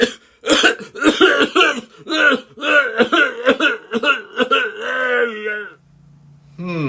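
A rough, loud coughing fit close by, several harsh hacking bursts running together and ending in a throaty clearing.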